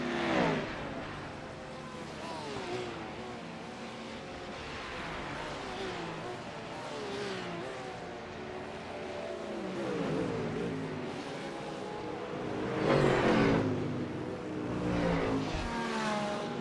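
Ford Mustang race cars in a GT sim racing game, engine drones rising and falling as they accelerate and pass, with a race commentator talking over them throughout.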